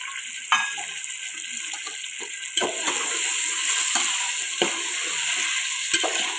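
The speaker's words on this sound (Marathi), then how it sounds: "त्या फ्लावरला सुद्धा यामध्ये छान परतून घ्यायचं आहे। तेलामध्ये या भाज्या परतल्यामुळे यांना छान अशी चव येते।" Chopped cauliflower sautéing in hot oil in a pan for a traditional Maharashtrian dish, a steady close sizzle with occasional stirring clinks and scrapes, no talking.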